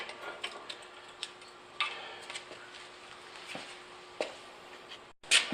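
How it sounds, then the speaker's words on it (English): A metal part from a jointer fence repair is tapped against a workbench in light, irregular knocks, a dozen or so faint ticks spaced unevenly, ending in a slightly louder clatter. "Finish tapping it on the bench."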